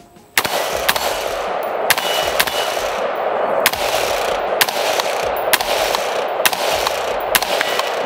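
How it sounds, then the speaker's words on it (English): Rifle fired through a Trijicon ACOG scope at a shooting range, eight loud, sharp shots spaced about a second apart over steady outdoor background noise. "let's go ahead and make ready and shoot a couple rounds through this"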